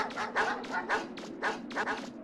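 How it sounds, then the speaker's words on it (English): Repeated dog barking from the Mega Man Legends video game, about eight sharp barks in an uneven rhythm. They sound moderately near and are heard alone, with no talking. "the dog barking does get annoying"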